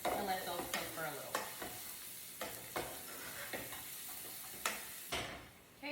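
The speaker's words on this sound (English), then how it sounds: "put in 1/3 cups of sun-dried tomatoes. And let those cook for a little." Sun-dried tomatoes sizzle in a pan with cooked onion while a utensil stirs and scrapes in repeated close strokes, soft frying hiss beneath the intermittent stirring.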